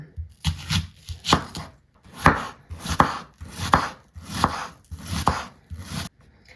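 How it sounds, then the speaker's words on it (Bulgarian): A knife chops onion on a cutting board, giving about a dozen sharp, close, evenly paced cuts in quick bursts, with no talk over them. "пристъпваме към нарязването и почистването първо и после нарязването и на лука"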